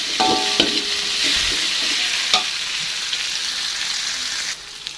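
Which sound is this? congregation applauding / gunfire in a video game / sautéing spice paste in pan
sautéing spice paste in pan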